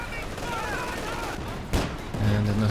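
A single sharp, booming blast from a grenade bursts out partway through in a 1v1 video game battle. It comes amid ongoing gunfire-like clatter and a commentator talking over the action.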